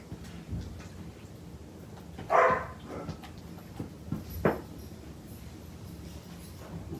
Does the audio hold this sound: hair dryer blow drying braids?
no